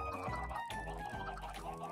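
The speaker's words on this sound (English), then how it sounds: "I'd say I've got a fair few amount of chickens here for Fuzzy to come discover" Chickens cluck in the Minecraft video game, a dense overlapping run of game bird sounds over a background music bed, fairly loud and continuous with no talking.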